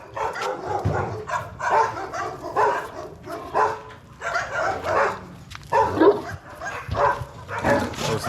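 A nervous rescue dog in Budapest yips and whimpers in short repeated bursts, nearby and restless, with faint background noise underneath.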